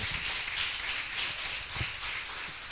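A church congregation breaks into sustained, dense applause during worship, a steady wash of clapping with a few sharper claps and no talking.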